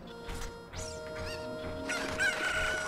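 Chicken from the video game Ocarina of Time, squawking and clucking in a few sharp bursts, then a high crowing cry near the end.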